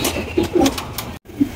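Black Maltese pigeons cooing at a market, several loud close low coos in quick succession over some background bustle.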